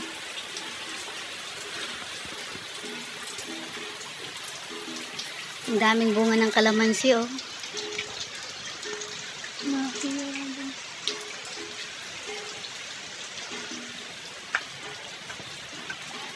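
Steady early-morning rain falls outdoors beside a garden with squash, chili and calamansi plants, a soft constant hiss throughout while a voice speaks briefly over it.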